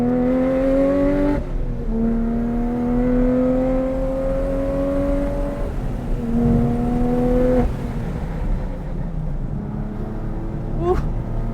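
Sports car engine pulls hard through upshifts on a track lap, its rising whine dropping in pitch at each quick short-shifted gear change, loud and close throughout with a brief burst near the end.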